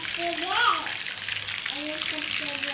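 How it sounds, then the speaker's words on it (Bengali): Spices fry in oil in a small wok ahead of cooking koi fish, giving a soft, steady sizzle with faint stirring, while people talk quietly in the background. "তেলের ভিতর মশলা টসলা সব কিছু দিয়ে দিচ্ছে, দিয়ে একটু ভেজে নিচ্ছে।"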